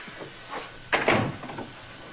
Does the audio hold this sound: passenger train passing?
no